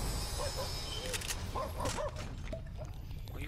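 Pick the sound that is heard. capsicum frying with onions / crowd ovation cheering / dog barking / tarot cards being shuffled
dog barking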